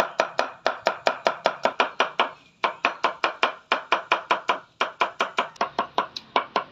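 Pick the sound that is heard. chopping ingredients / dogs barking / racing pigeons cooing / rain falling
chopping ingredients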